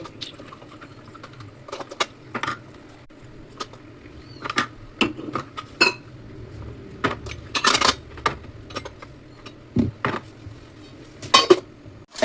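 Steel kitchen utensils dropped one by one into a silver container, giving sharp metallic clinks and clatters at an irregular pace, some single and some in quick clusters, close up over a quiet kitchen background with no talking.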